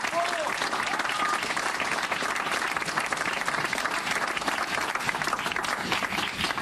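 Steady audience applause for the mayor of Marseille at a municipal election rally, a dense even wash of many hands clapping throughout, moderately distant and continuous with no pauses.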